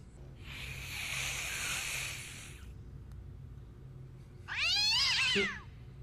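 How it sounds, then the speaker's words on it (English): A cat gives a drawn-out, wailing meow, a pause follows, and then a second, higher meow rises and falls, both fairly close. "Oh, kitties."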